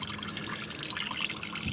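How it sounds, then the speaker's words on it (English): Engine coolant draining out of a 2001 Lexus LS430 during a camshaft gasket job, a steady close trickle and splatter of liquid running throughout. "draining all the coolant because I'm gonna put new coolant in there anyway"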